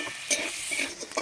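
Onions frying in hot oil give a steady, close, bright sizzle, with a couple of soft spatula scrapes breaking through over a short stretch.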